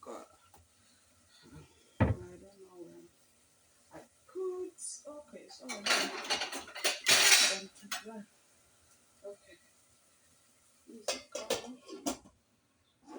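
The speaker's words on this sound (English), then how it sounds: "Let me look for the cover so that it can cook really quick." Pots, pans and metal lids clatter and clink as someone rummages through cookware for a lid to cover a pot of brown peas, with scattered bangs and scrapes and a person talking at points in between.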